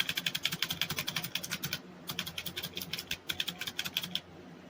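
Clicky switches on a Razer Huntsman Mini 60% gaming keyboard, with plastic bottom and metal top, rattle in quick, sharp bursts of keystrokes with a brief pause midway, close and crisp, no talking.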